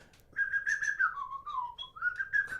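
A person whistles a short, wavering melodic phrase to imitate a penny whistle. The whistle is close and clear, alone with no talking.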